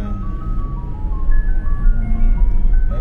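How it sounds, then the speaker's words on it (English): Tinkly ice cream truck music drifts in from outside, heard from inside a Tesla Model Y Performance on a road trip, steady over a low rumble of road and cabin noise. "is that an ice cream truck?"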